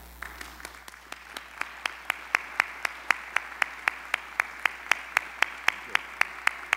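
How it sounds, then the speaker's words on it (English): An audience at a Pulaski Day celebration claps for standing war heroes; the clapping is steady and evenly paced, with single sharp claps about three per second, growing slightly louder and holding a regular beat throughout. "Could we give you a round of applause?"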